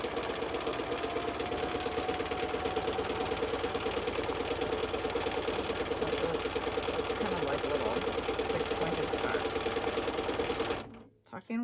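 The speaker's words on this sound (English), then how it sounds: "While I'm sewing again." A sewing machine doing free motion stitching to simulate moss with a free motion foot, a steady fast rhythmic mechanical whir running continuously and fairly loud, stopping abruptly just before the end.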